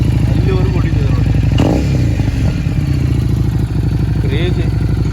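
A Harley-Davidson Street 750 V-twin with a custom Screamin Eagle exhaust, idling loud and close with a deep, steady pulsing rumble and a brief throttle blip, while a voice talks over it.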